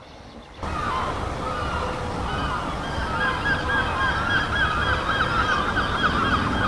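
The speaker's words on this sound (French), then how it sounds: "c'est bien des mouettes que vous entendez" Seagulls calling repeatedly outdoors by an urban river, harsh squawking cries over steady background noise like wind or distant surf, continuous throughout.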